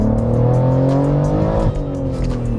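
BMW M3 G80 with an Fi exhaust revving hard close by, a loud raspy engine note climbing in pitch before a sharp drop around a shift, then settling into a steady drone.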